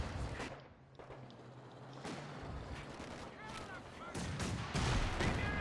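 Mortar rounds and grenades exploding in a Company of Heroes 2 battle, with scattered thumps and sharp gunfire bursts over a busy battlefield din that grows louder toward the end.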